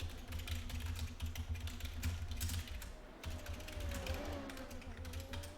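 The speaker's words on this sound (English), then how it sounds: "You probably just hear me clicking furiously at the moment." Furious clicking on a computer while navigating a tuning menu: a fast, uneven stream of small mechanical clicks, close but quiet, over a low hum with no talk.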